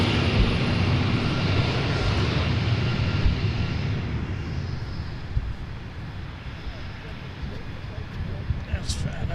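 Fat Albert, the Blue Angels' support transport plane, roars past at the Seafair air show, a loud broad engine drone that slowly fades into the distance as it flies off.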